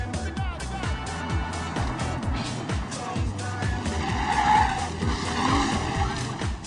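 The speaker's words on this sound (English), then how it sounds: "What good is a fast car if you don't open it up every once in a while?" A fast car accelerates hard with loud tire squeal and skidding, the engine roaring close by throughout, with no break in the noise.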